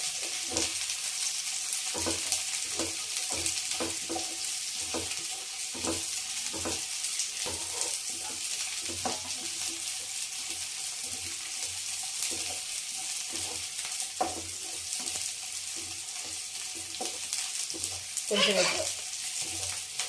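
Green chillies frying in hot oil, a continuous bright sizzle with repeated clicks and scrapes of a stirring spoon against the pan, fairly soft and steady throughout.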